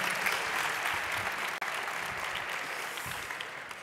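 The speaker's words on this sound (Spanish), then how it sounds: "Un aplauso para nuestro tercer miembro." Audience applause at a TechFest talk welcoming a team member on stage, a dense, steady wash of clapping from a crowd, with one brief dropout midway.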